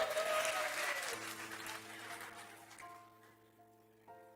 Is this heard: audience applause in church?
yes